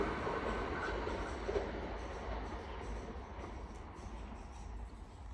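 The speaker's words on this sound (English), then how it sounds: "Well, the train went past, but it wasn't stopping." A train in Japan, near Kakunodate, rumbles and clatters past at speed without stopping, a continuous heavy roar of wheels on rails that never slows.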